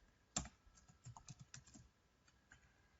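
Code being typed on a computer keyboard: one sharp key thump, then a quick run of soft clicking keystrokes that trails off into a few scattered taps, close and quiet.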